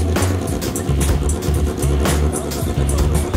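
Kawasaki 636 sport motorcycle engine riding and revving in pulsing bursts, loud and close, with repeated throttle blips rising and falling over a few seconds.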